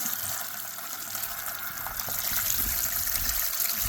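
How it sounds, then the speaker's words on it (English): Water is poured into a garden bucket holding roots, coal and old soil, a steady close gush and trickle that runs alone for the whole stretch and swells slightly toward the end. "So I'm gonna replenish it with water."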